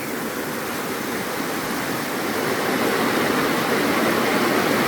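Steady rushing water flows loudly and continuously, a dense hollow roar of Fall Creek pouring through a culvert, with no voices.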